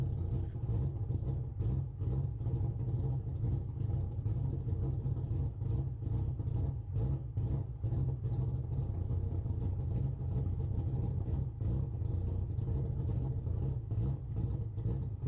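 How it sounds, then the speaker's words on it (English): A car engine runs steadily in the driving game Assetto Corsa, a low, constant rumble with a faint pulsing texture, loud and unbroken for the whole stretch with no voices over it. "Listen to the engine quickly."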